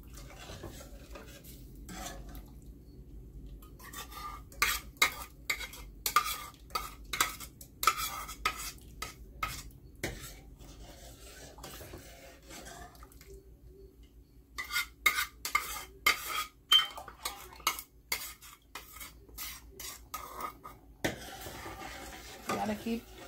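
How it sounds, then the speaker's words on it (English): A spoon repeatedly scrapes and taps against a pot while cream of wheat is stirred for breakfast, producing bursts of clinking strokes with quiet pauses between them, close and moderately loud. "You have to make sure that you keep stirring it, so it wouldn't stay one place and get lumpy."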